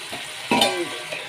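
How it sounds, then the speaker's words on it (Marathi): A spoon stirs cabbage curry, a dum kobi bhaji, in a pan: one quick scrape and clatter stands out over a soft, steady background hiss, close by and with no voices. "चांगला आता मिक्स करून घेते."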